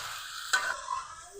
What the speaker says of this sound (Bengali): দিয়ে দিব মরিচ, আরো কিছুক্ষণ কষিয়ে নিব